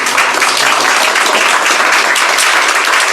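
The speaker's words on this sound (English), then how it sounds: "if everyone could join me in giving a round of applause again" Loud, dense applause from an audience closing a law lecture on Arctic wildlife and oil, a steady continuous roar of many hands with no pauses across the whole stretch.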